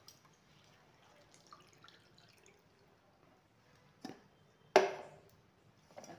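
Fresh neem leaves being rinsed with water, heard as faint trickling and dripping with a couple of louder splashes near the end, quiet and close.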